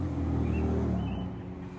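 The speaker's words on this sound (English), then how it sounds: "that car that just went by, that's confirmation" A car passes by at a distance, a faint low engine rumble that fades toward the end.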